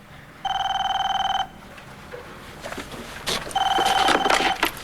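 A telephone rings twice, each burst a loud, rapid electronic trill lasting about a second, with a quiet gap and faint rustling and movement between them.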